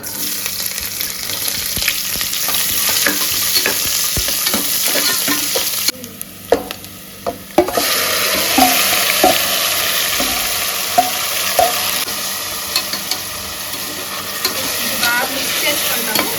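Onions fry loudly in hot oil with whole spices for mutton haleem, a steady close sizzle with scraping stirs and one brief quieter pause midway.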